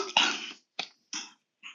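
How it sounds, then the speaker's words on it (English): Someone coughs several times in a row during a podcast interview, sharp close bursts separated by short pauses. "sorry, I'm going to cough"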